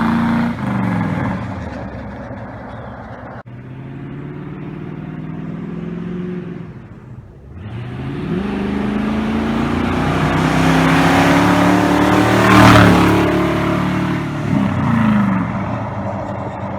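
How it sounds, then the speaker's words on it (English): A 1979 Ford F150 with a 351M V8 and bullet-style mufflers drives down the road, its engine note rising and falling through repeated accelerations and gear changes, loud and close throughout. "Let's see what it sounds like going down the road."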